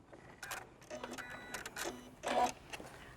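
A sewing machine stitches small leg details in short, quiet bursts of quick mechanical whirring and ticking. The bursts are separated by pauses.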